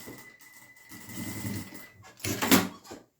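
A sewing machine stitches a piece for a crossbody bag in short close bursts of whirring, with a brief pause and a louder final run before it stops.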